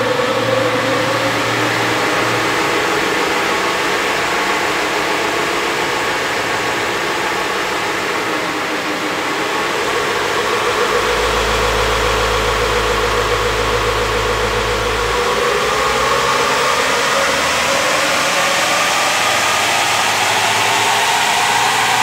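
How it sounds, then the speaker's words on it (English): A tuned Isuzu D-Max with a 4JJ1 diesel engine runs on a dyno, a loud, steady drone with a deep low-end surge partway through as load builds and pitch gradually climbs. "get it ready to go on the dyno, we'll let it warm back up,"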